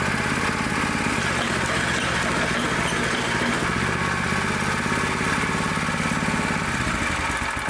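A Predator small engine swapped onto an old Mary tiller, running fast with a steady, loud, buzzing drone and constant mechanical rattle close by, unbroken throughout.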